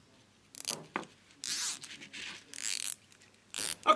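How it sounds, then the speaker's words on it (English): Cable ties are zipped tight around a balloon inside a bag, giving several short, close ratcheting zips in quick bursts separated by brief pauses. "take a couple of cable ties and zip around there with them"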